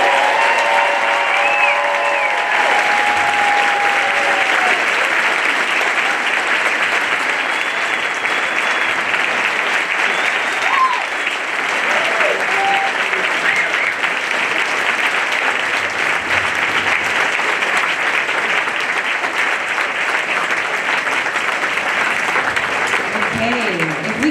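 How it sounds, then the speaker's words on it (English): An audience at a candidate forum breaks into a loud, sustained round of applause, a dense wash of clapping that holds steady for over twenty seconds with faint voices mixed in. "with a loud round of applause, give it up for all of you"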